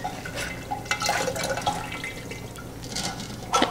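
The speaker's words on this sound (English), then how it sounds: "I'm just going to give them a little squish to get the tea out." Steeped tea leaves are squeezed in a strainer so liquid trickles and drips into a jar, a soft wet dribble with scattered drops, close and fairly quiet, no talk.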